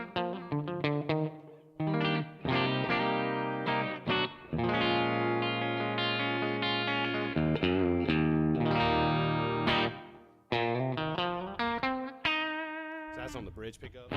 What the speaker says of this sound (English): we got to put the reverb back on for the clean sound